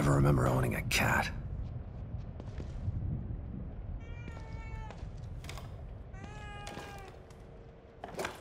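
A cat meows a few times in the horror video game The Evil Within 2, brief harmonic cries standing out over a low ambient hum, with a voice speaking at the start.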